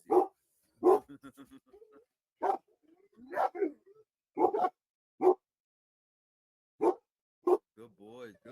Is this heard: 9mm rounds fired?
no